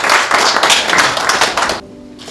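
An audience at a church pastors' gathering claps together in a brisk burst of applause lasting under two seconds, then it stops abruptly, leaving quiet room tone.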